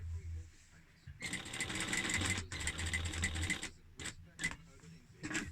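A sewing machine top stitches a fabric face mask, running in two long bursts of rapid mechanical stitching with brief pauses, followed by a few short starts and stops as the seam is finished.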